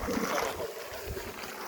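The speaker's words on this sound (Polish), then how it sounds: "wiatr nam trochę tu przeszkadza" Wind buffets the microphone in a steady, fairly quiet rumble with soft gusty fluctuations and no speech.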